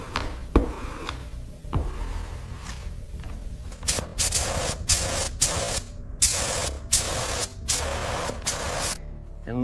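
A spray gun lays clear coat on a car in a series of hissing bursts. A steady hiss builds into regular pulses of spray separated by short gaps, moderately close, with no talking.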